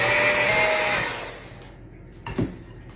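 Electric hand mixer beating a brick of cream cheese with confectioner's sugar, a loud close whirring drone that winds down and stops after about a second, followed by a couple of soft knocks of the beaters.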